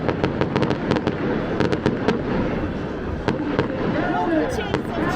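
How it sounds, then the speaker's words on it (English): A New Year fireworks show in Palm Springs, California bursts in a series of sharp cracks and pops, some in rapid clusters, over a constant crowd murmur with people talking. "Never seen a fireworks show like this in my life."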